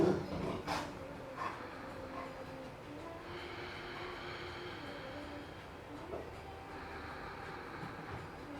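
A pet dog whines and complains faintly in a quiet room, a thin drawn-out cry that rises and falls over a steady low background hum.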